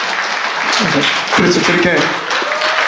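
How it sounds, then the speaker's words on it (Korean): An audience at a poetry recitation contest gives the judges dense, sustained applause, loud and continuous throughout, while someone speaks briefly over the clapping. "수고하신 심사위원들 모두에게 이번 큰 박수 한번 주시기 바라겠습니다"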